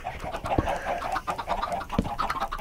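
Minecraft chicken clucking in a video game, a busy stream of close, mid-loud clucks and squawks with a couple of sharper accents.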